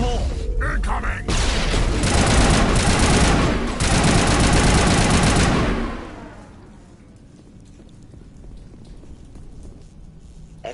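Grenade blast and rapid gunfire in the sci-fi shooter Mass Effect, loud dense bursts of shots for about six seconds, then fading to a quieter rumbling backdrop.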